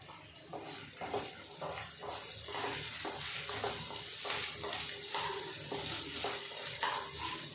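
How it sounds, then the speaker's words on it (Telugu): Potatoes and cashews fry in a pan with a soft, steady sizzle and rhythmic stirring scrapes, close and fairly quiet, with no speech. "ఇదంతా ఆలు సింపుల్గా వేగిపోతుంది"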